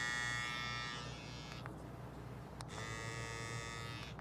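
A Babyliss clipper/trimmer runs with a steady, thin electric buzz, heard close and fairly quiet, dipping briefly mid-clip before resuming at a steady hum.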